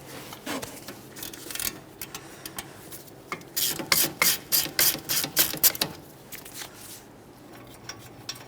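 A ratchet wrench loosens a 17mm caliper bracket bolt on a Toyota Sienna, a series of quick, fairly faint clicking bursts with short pauses between them, growing busier toward the middle.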